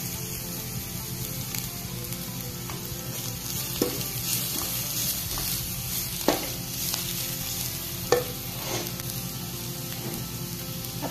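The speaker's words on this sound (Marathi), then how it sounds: "सुकं खोबरं आपल्याला छान परतून घ्यायचंय" Dry grated coconut and chopped garlic fry in a pan with a continuous close sizzle, broken by occasional scraping stirs of a spatula.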